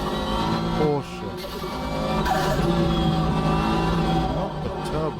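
A Porsche GT1 race car in a Le Mans racing video game, its engine revving and rising in pitch through gear changes, loud and steady, with a voice talking over it.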